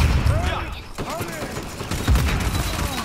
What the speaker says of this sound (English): I just got a shot through the smoke.